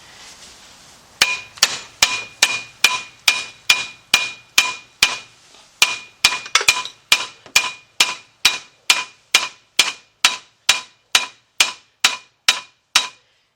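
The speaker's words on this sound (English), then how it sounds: "upgrade my hammer" A hammer strikes metal repeatedly on a 2007 Chevy Impala 3.9 front strut assembly, about two dozen sharp ringing clangs in a steady, fast rhythm, close and loud with no talk.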